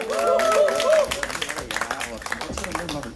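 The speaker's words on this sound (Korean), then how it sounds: "박수로 모셔보도록 하겠습니다" Applause and cheering at a Seongju candlelight rally as a guest is welcomed; a voice rings out at first, then a crowd of clapping and cheers continues steadily.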